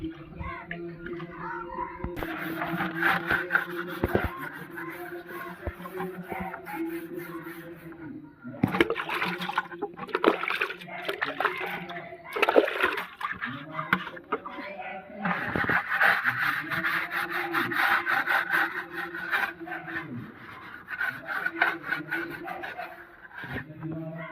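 Water splashes and pours while something muddy is washed, coming in uneven bursts and gurgles. A person talks at times over the splashing.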